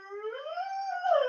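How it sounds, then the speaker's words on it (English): A part-coonhound dog lets out a single sustained howl, close and fairly loud, rising and then holding its pitch before breaking off, with no talking over it. "That dog. He's coonhound, part coonhound."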